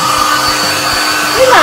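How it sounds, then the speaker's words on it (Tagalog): A hair blower roars with a steady, close airy rush while drying a dog after its bath, and a voice breaks in briefly at the end. "Nakikita niyo kung mag-blower ko siya."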